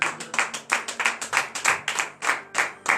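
Congregation at morning prayer in Benin clapping together in a steady, even rhythm, about four to five claps per second, loud and close, with no talk over it.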